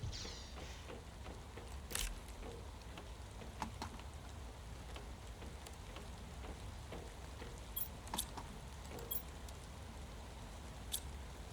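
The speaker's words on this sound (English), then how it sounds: "Why is it raining inside?" Rain falls indoors in the video game Planet Crafter: a faint, steady wash of patter, broken by a few soft sharper ticks.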